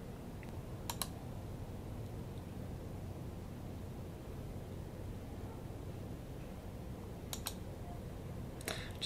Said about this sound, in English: Just kind of clicking on all of these.